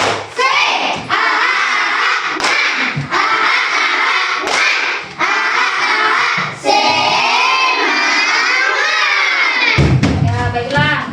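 Schoolchildren in a primary classroom perform a rhythmic clapping chant together, with loud voices and bursts of claps repeating in quick patterns close by.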